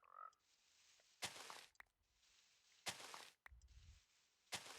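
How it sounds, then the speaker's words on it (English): Frog croaks in Minecraft, several loud broadband bursts in an irregular pattern over a steady game ambience, with no talking. "Oh, Mr. Frog."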